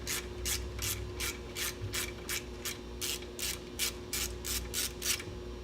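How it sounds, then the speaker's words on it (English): Hex-head 3/16 Allen wrench turning a pipe plug out of an elbow fitting during a CAT 3406E diesel fuel system install, giving a steady run of about a dozen evenly spaced, bright ratcheting rasps, close and clear with no talking. "3/16 Allen wrench, hex head to remove that pipe plug out of the elbow."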